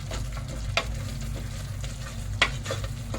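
Chicken for kabsa is stirred and frying in a pan, with a steady close sizzle broken by a couple of sharp scraping stirs.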